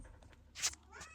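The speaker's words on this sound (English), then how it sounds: "Sorry, that's my cat." A house cat gives a faint, short meow indoors, quiet and close against low background hum, with no talk.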